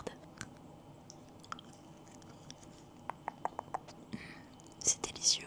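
Close, soft chewing of chocolate teddy bear candies: quiet moist mouth clicks and small crunch-like ticks scattered over about five seconds, with whispery breath and a few murmured words around them.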